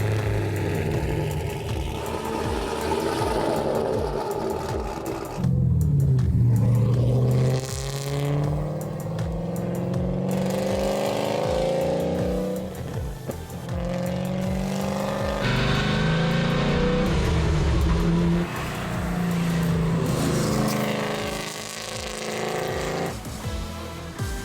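An LS-swapped BMW 330i racecar on sticky tires lapping a track, its V8 engine roaring loud and close, rising and falling through gear changes and repeated acceleration, with no speech.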